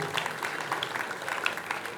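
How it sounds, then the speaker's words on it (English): An audience at an Accra Technical University congregation applauds the council chairman, brisk clapping with distinct individual claps audible through a steady patter over two seconds. "Shall we give our council chairman an applause?"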